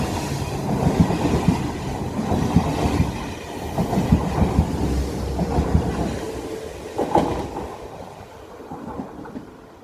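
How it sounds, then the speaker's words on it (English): A train rumbles past loudly, with rhythmic clickety-clack of wheels on rails and a low roar that fades as it moves away. "That's my train."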